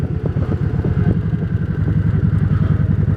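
Motorcycle being ridden on the Ice Breaker Ride, a close, steady engine with a rapid pulsing beat and slight clatter, alone throughout.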